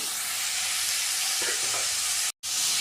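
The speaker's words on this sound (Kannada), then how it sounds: "ಈಗ ಮಿಕ್ಸ್ ಮಾಡಿದ್ದೀನಿ" Cauliflower palya seasoned with salt fries and is stirred in a pan, giving a dense, steady sizzle with a few soft stirring scrapes. The sound cuts out briefly near the end.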